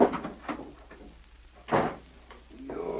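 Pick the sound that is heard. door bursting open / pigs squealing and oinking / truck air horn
door bursting open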